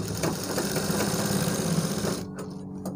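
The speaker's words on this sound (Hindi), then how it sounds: "हमें यहाँ पर क्रॉस करके हल्का सा इस तरीके से सिलाई लगानी होगी" A sewing machine runs steadily, cross-stitching the pocket lining on the back pocket of a pair of trousers, a close mechanical whir that stops abruptly near the end, leaving brief quiet taps.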